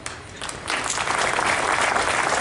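Audience applause at a lecture swells from scattered clapping into full, loud, sustained clapping from a large hall of listeners, continuing to the end.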